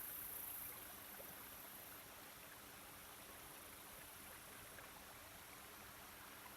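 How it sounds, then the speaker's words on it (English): Water flowing in a creek beside a trail in the Black Hills of South Dakota, a soft continuous rushing wash, faint and even throughout. "You hear that water flowing?"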